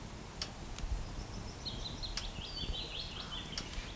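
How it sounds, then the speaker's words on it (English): Thin, high bird calls twitter faintly in the distance over a low background hum, with a few soft ticks. "Just bird calls."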